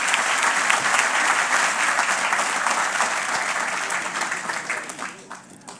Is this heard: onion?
no